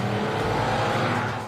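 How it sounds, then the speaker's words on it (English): Road traffic in Mexico City, a steady close wash of car engines and tyre noise rolling continuously without breaks. "Traffic."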